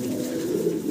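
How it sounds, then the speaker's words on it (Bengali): A pair of fancy Pankhi pigeons coo close up in a low, continuous rolling murmur, with no voices over them. "চমৎকার একটা পাঙ্খি কবুতরের জোড়া দেখাচ্ছি আপনাদের"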